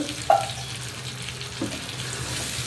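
Water from a tumbler is poured into a pot of frying vegetables for vangi bath, a short splash followed by steady watery sizzling and a brief clunk, close up with no talking.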